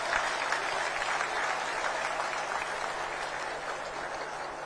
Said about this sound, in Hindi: एक बार जोर से इनके अभिनंदन में तालियां बजाएंगे